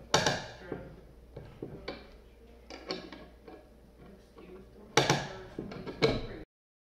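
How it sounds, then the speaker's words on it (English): Lag bolts are driven into the wooden neck of an electric upright bass, giving a series of harsh creaking, grinding squeals in short bursts, close and fairly loud, with a longer stretch near the end. "there's going to be a horrible sound that scared me when I was screwing in these lag bolts"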